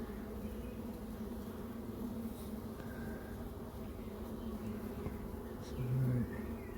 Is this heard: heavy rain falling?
no